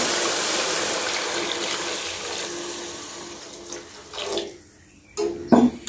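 Milk, a little over a kilo, poured into a pot of bottle gourd for lauki kheer, a steady splashing liquid pour that tapers off, then brief clinks and stirring noises near the end, no talk.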